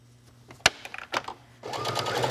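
Sewing machine stitching a cross-body bag at a corner: a few sharp clicks and short mechanism bursts, then a steady close motor hum and stitching run.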